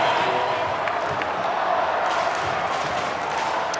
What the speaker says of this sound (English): Crowd really starting to lift here at NG now.